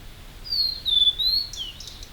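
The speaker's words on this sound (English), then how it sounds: "why do birds delimitate their territory by singing?" Bird singing a thin, high whistled phrase of sliding notes followed by a couple of quick chirps, faint against a quiet low background hum.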